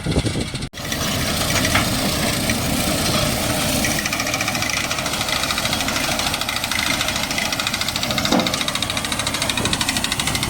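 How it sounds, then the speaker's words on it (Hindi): A tractor pulling a Happy Seeder while sowing mung beans runs with a steady, loud, chugging engine drone throughout, with a short dropout near the start. "इस तरीके से ये ट्रैक्टर चल रहे हैं।"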